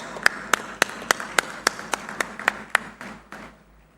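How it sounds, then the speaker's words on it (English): Rhythmic, evenly spaced clapping at a groundbreaking ceremony for the Google Cloud India AI Hub, a dozen or so sharp, unified claps that gradually weaken and fade out. "Let's make sure our guests behind us are able to hear your applause."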